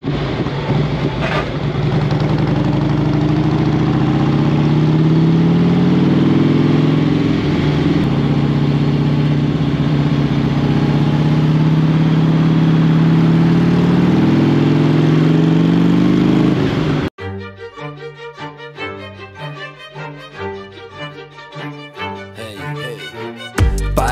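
A car engine running on a drive, a strong steady drone with rising revs for most of the stretch, then cutting off abruptly as rhythmic music takes over.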